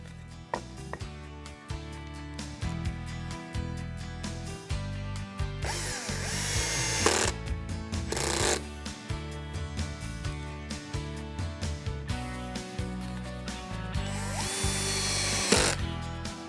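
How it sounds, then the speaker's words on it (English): A drill drives screws into a wooden miter box for a pull saw, two longer bursts of whirring with screw-biting strain among shorter trigger pulses and clicks, close and clear. "Then I'll attach it from the bottom side with screws."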